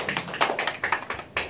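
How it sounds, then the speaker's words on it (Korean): A classroom of students breaks into quick clapping, a short run of sharp, close hand claps in an uneven rhythm with no talking. "그래서 박수 치는 겁니다."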